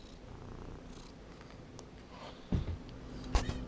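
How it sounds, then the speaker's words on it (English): A cat purrs close by in a soft, steady low rumble, with a couple of light bumps near the end. "And now she's purring."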